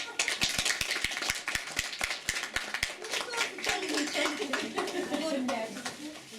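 Concert audience applauding a female singer during a Christmastide folk concert, a dense wash of clapping with sharp individual claps early on, steady and moderately loud, with a voice speaking over it.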